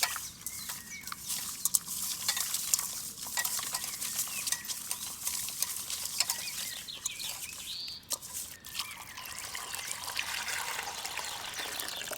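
Prawns being stirred with lemon juice in a bowl by hand, a soft continuous wet squelching and sloshing with faint birdsong in the background, no talking.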